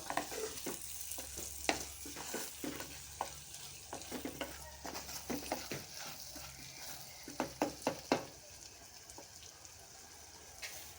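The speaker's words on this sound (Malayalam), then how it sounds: "കുരുമുളക് പൊടി ചേർത്ത് നല്ലവണ്ണം ഇളക്കുക." Food frying in a pan is stirred after pepper powder goes in, while cooking a Thalassery-style country snack: a soft sizzle runs underneath repeated scraping clicks of the spoon against the pan.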